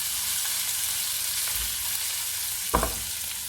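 Fresh garlic with ginger fries in a pan for white mash daal, giving a steady close sizzle throughout, with a brief clatter of stirring near the end.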